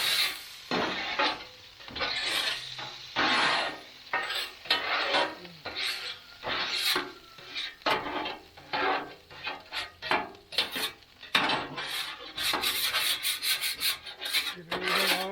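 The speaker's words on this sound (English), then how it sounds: "Get your scraper. Get all that cooked schmoo on there." A metal scraper drags cooked residue across a wet Blackstone griddle in a long series of loud, rasping strokes, steady and rhythmic, close up and with no talking.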